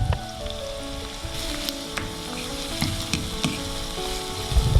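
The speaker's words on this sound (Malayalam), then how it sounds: "ഒരു സബോള ചെറുതായി അരിഞ്ഞത് ഇട്ട് നന്നായി ഒന്ന് വഴറ്റുക" Chopped onion and green chillies sautéing in a hot pan for a vegetable kurma, with a steady close sizzle, occasional stirring scrapes and small pops throughout, no talking.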